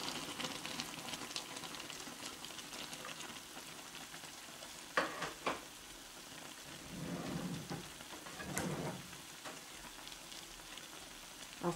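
Potatoes drop into a pot of boiling water on a home stove, giving a couple of soft plops and splashes over a quiet, low bubbling simmer, with no talking.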